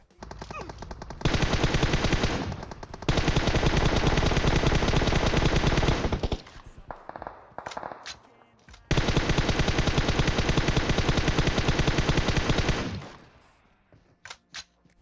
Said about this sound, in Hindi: बीच सड़क में बीच रोड में गाड़ी रोक के यार गोली चला रहे हैं